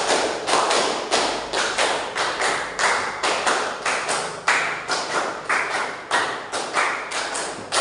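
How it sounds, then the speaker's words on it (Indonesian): Classroom group clapping in a steady rhythmic pattern, repeated sharp claps in even bursts, fairly loud and close with no talking. "5 kali tepuk 5"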